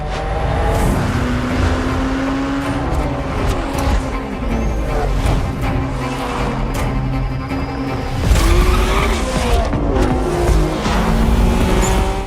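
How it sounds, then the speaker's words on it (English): Racing cars in Forza Motorsport 6, loud roaring engines shifting pitch as they pass, with tire squeals and skids, a heavier surge near the end, continuous and close. "Forza Motorsport 6 is a racing game."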